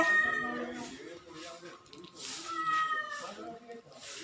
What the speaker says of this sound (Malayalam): അക്കുവിനെ കൊടുക്കാൻ പൂച്ചയ്ക്ക് പൂച്ചമ്മയ്ക്ക് വിശക്കുണ്ട്